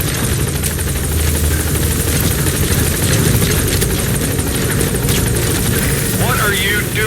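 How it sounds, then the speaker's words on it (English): A support helicopter's rotor thumps loudly and continuously nearby in the video game Metal Gear Solid V: The Phantom Pain, with a steady engine roar and a radio-style voice talking over it. "Support helicopter has arrived."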